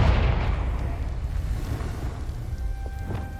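A Confringo fire spell bursts in Hogwarts Legacy, a loud rumbling explosion that starts strong and rolls off into a sustained low roar, with faint crackles near the end.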